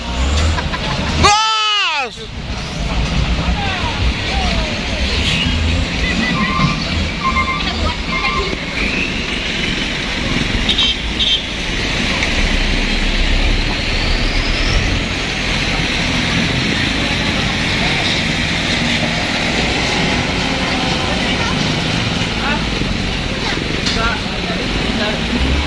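An orange Fuso truck forcing its way along a narrow roadside by a ditch makes a loud, continuous engine roar that keeps up for the whole stretch, with a brief horn-like sweep near the start and people talking over it.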